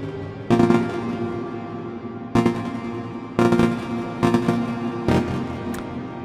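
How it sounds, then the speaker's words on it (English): A CV Funk Collatz burst generator on a modular synth fires five irregularly spaced, sharp tonal bursts through a sine VCO. Each burst hits hard and then decays over a sustained drone, with no voice present. "if I just mute this one, it's creating the bursts on the sine VCO"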